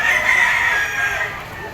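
A yellow-legged bull stag rooster crows in one sustained, strained call lasting nearly two seconds, loud and close, with faint background murmur at an auction market.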